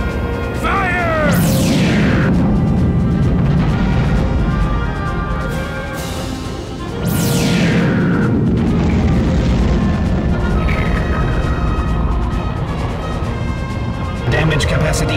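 Main guns firing and explosions in the Star Fox Assault final battle at the Homeworld Core, with loud booming blasts and sweeping crashes over a dense rumbling score, along with voices talking.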